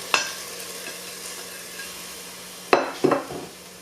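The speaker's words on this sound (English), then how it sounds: "Add the cooked chickpeas, capsicum, corn" Cooked chickpeas, capsicum, corn and carrots tipped into a hot pan of tomato chilli rice, a soft sizzle with three sharp clattering drops of vegetables hitting the pan, close and clear.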